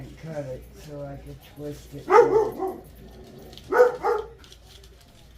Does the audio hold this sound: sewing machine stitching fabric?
no